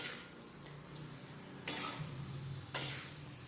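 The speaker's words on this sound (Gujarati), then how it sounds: "હવે આપણે આ મસાલાને અંદર મિક્સ કરી દઈશું" Masala being gently stirred into a spicy vegetable dish in a pot, two distinct scrapes of a utensil against the metal ring out over a quiet, faint background sizzle.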